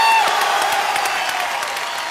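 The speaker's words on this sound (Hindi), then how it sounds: "तो जोरदार तालियों से बताएं" An audience applauds loudly at a gathering honoring Amitabh Bachchan, a dense wash of clapping with some crowd noise that starts strong and tapers slightly over two seconds.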